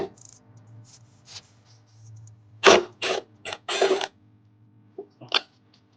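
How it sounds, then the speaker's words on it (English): A T20 bolt being turned out near the throttle body of a 2009-or-later Audi A5/A6 3.2L engine, with a low hum, then close, sharp ratcheting creaks and metallic clicks in short bursts. "it's held down by a T20. So we're just gonna take that bolt out."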